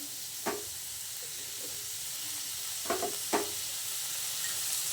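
Finely cut onion and tomato fry in a pan with a steady, close sizzling hiss, broken by a few brief utensil taps as they are stirred; no voices.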